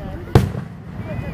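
A single firework bursts nearby outdoors with one sharp, loud bang that quickly fades into a low, quiet outdoor background.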